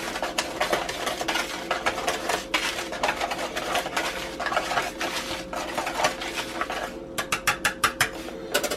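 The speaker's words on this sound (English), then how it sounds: "And just mix your dry ingredients together" Dry corndog batter ingredients being stirred in a bowl, a continuous scraping and rattling mix with quicker rhythmic strokes toward the end, close and alone.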